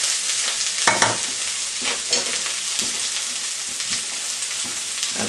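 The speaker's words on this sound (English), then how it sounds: "Give it a stir around." Food stirred around a sizzling frying pan with wild garlic, cumin and coriander, a steady broadband fry hiss with a few scraping strokes of the spoon, close and fairly loud, no talk.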